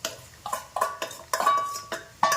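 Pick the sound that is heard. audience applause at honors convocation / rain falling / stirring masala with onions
stirring masala with onions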